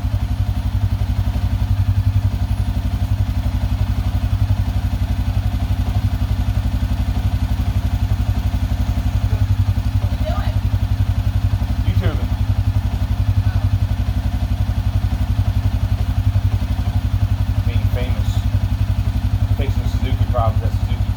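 A 2007 Suzuki King Quad ATV engine runs at a steady, rough idle close by, with a low continuous drone, occasional clatter and someone talking over it.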